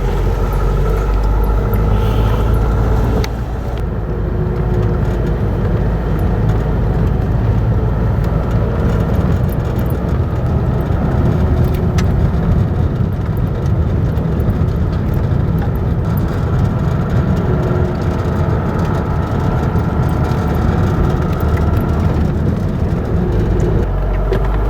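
A car engine runs with a loud, steady low rumble and road roar from inside the moving vehicle, continuous and close throughout.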